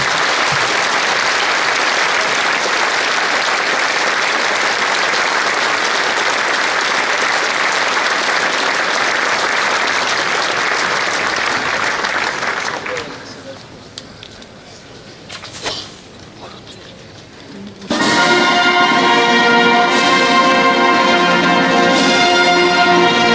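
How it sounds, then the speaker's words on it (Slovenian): An audience applauds the orchestras at a ceremony marking the centenary of the Battle of Kobarid. Loud, sustained clapping lasts about thirteen seconds, dies to a quiet lull, and then ringing tonal music begins. "Dame in gospodje, dajmo en aplavz za vse orkestre."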